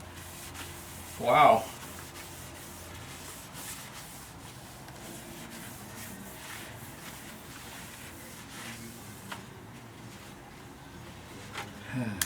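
A towel wipes Cosmoline off a Powermatic 15HH planer, making a faint, steady rubbing texture throughout. Near the start, a voice gives a brief exclamation.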